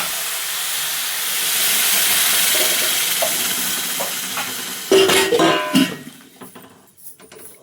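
Steady loud hissing of water poured into a hot pan over a high flame, steaming and sizzling, then a burst of clatter and bubbling before it fades.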